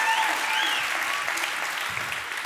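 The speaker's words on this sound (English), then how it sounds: "let's give ourselves a round of applause for that" A crowd claps for itself during a live comedy show, a thick burst of applause sustained evenly throughout, with a few faint voices underneath.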